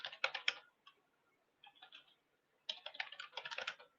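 Someone types on a computer keyboard, heard as faint, quick bursts of clicking keystrokes separated by a short pause.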